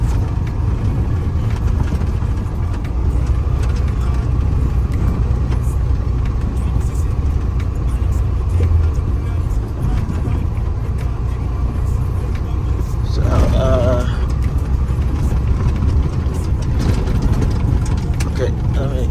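A 28-foot non-CDL box truck with air brakes drones steadily from the cab while under way, its engine a constant low rumble throughout, with a brief burst of higher-pitched rattling or squeaking partway through.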